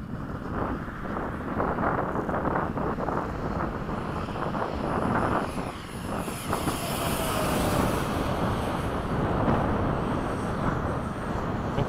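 Electric motor of a remote-controlled model F-16 jet flying in evening light, a steady whining drone blended with wind noise across the whole stretch, swelling slightly as it passes.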